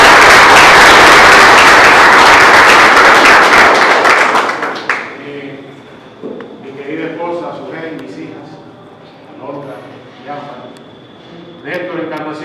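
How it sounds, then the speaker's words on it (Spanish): Loud crowd applause at a municipal town hall event in Sabana Larga fills the first five seconds, then gives way to someone speaking over a quieter room with a few scattered claps. "lo estoy llamando, Juan Antonio Castillo, para quien pido un fuerte aplauso."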